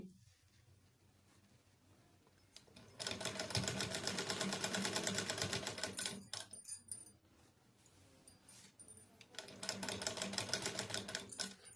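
A sewing machine stitches a half-inch seam margin while a sleeve is attached, running in two long bursts of rapid, even clatter separated by a brief pause with quieter handling noises.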